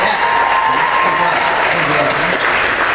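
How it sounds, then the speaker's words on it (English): An audience at a Star Wars Weekends fan event claps together in a continuous, even roar of applause, with some voices mixed faintly into the crowd noise. "Give yourselves a round of applause."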